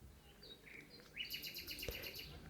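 Birds sing in a park beside a hotel balcony in Varna, Bulgaria: faint chirps and a rapid trilling warble from a distance over soft background ambience, with no talking.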